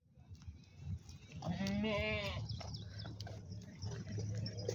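A goat lets out one drawn-out wavering bleat near the start, followed by quieter rustling and low background noise; nobody speaks.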